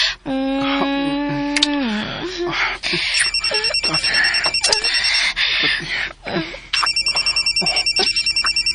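A cellphone rings with loud, bright electronic trills that repeat and pulse through the clip, overlapping with people talking and other scattered noises nearby.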